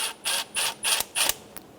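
A ratchet turns a 10mm socket to release the timing belt tensioner on a 1994–1997 Honda Accord 2.2L four-cylinder, giving five quick, close clicking sweeps in an even rhythm.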